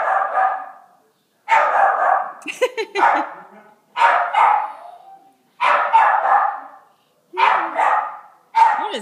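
Two dogs bark in bursts, repeated clusters of loud, close barks separated by short pauses, with some overlapping yips.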